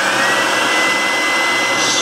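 A BUSYBUDY 400W cordless stick vacuum cleaner runs close by with a steady, loud, even whine and airflow rush, unbroken for the whole stretch, with no one talking.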